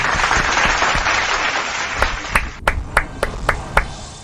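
A crowd applauding loudly, thinning after a couple of seconds into a handful of sharp, separate claps in a loose rhythm.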